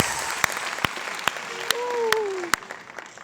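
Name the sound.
audience applauding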